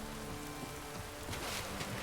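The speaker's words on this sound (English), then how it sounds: "it's still raining" Steady rain falls in the video game Witcher 3, a continuous hiss of drops with a low rumble underneath and no talking.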